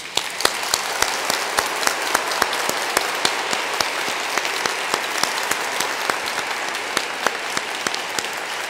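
A church congregation breaks into sustained applause, a dense steady wash of many hands clapping with sharper individual claps standing out, no speech over it.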